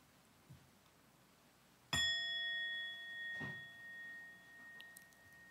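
A single bell is struck once during a sound meditation, giving a clear bright ring that hangs in a long, slowly fading tone with a faint second touch, alone in a quiet room.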